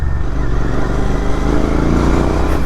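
A Royal Enfield GT650 twin-cylinder motorcycle rumbles loudly and steadily while being ridden through Bangalore, its close engine drone continuous with no talk.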